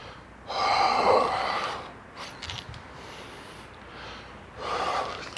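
Heavy, audible breaths during squats, a loud inhale and exhale followed by quieter breathing, then another strong breath near the end, close and without talk.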